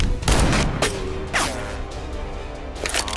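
Gunfire in an animated short film: several loud, sharp bursts and booms in quick succession, with ringing echoes trailing between the shots.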